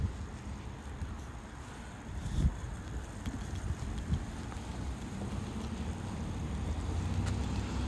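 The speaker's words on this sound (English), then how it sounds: "It sounds super windy." Wind buffets a phone microphone outdoors during a Pokémon GO livestream, producing continuous low rumbling gusts with a few sharper thumps that build slightly toward the end.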